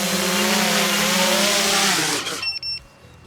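Homemade drone motors whining loudly and steadily with a harmonic buzz as the craft descends outdoors, then cutting out abruptly on landing, leaving brief clatter and near silence.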